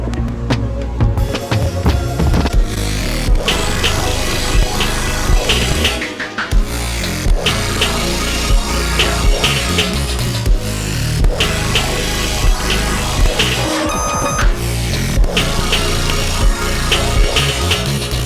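An electronic music track climbs through a rising riser and a busy drum fill, then a loud, dense drop arrives with full bass and layered synths. The music plays alone at high volume throughout.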